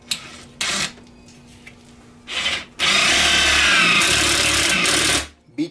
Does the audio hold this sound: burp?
no